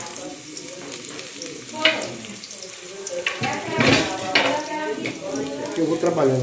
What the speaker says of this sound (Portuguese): Primeiro eu vou pôr o alho aqui para dar uma aquecida mesmo.